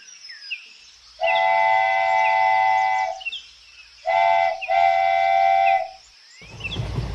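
A train horn sounds two long sustained blasts, the second briefly broken, with faint chirping birds in the background and a low rumble at the end.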